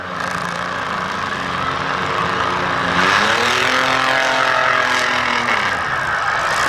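A demolition derby car at a county derby chugs around the arena with one tire completely gone, its engine droning loudly and steadily, the pitch rising and falling as it revs, with faint scraping and squeal mixed in.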